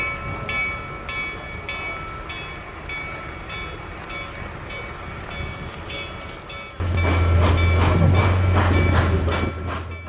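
A 4-8-4 Northern steam locomotive reverses along the rails with a steady mechanical drone and rhythmic clanking, growing louder and heavier toward the end.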